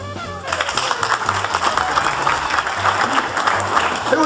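A comedy and cabaret audience breaks into a burst of clapping after a pause, the applause dense and lively for a few seconds, with a low hum underneath.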